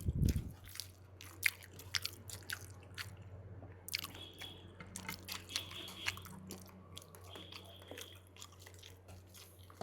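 Close-up chewing and biting while eating rice with mutton lung curry, with wet squishy mouth sounds and crunchy bites repeating at an irregular rhythm over a steady low hum, and no talking.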